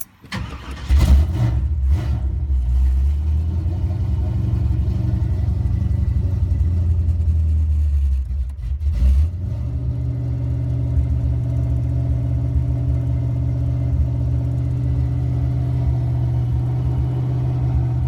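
A 1981 Chevrolet Monte Carlo G-body with a 355 small-block V8 cranks and catches, then settles into a deep, droney exhaust rumble at a warm-up idle, loud and close, dropping to a steadier, lower hum partway through.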